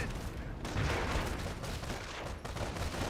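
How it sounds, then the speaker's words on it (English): A mortar firing in a Company of Heroes battle, heavy booming shots within a dense, continuous wash of combat noise and gunfire. "Mortar firing away."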